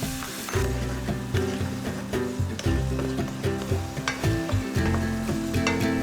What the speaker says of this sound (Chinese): 刚才的番茄丁下锅炒。